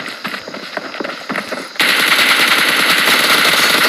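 Gunfire in the PUBG video game, light scattered shots giving way to a sudden, loud, sustained burst of rapid automatic fire that runs to the end.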